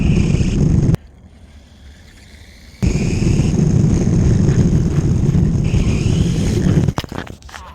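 A PowerCraze RC car drives at high speed, its motor whining loudly and close by, briefly quieter for a couple of seconds before surging back, then cutting off near the end.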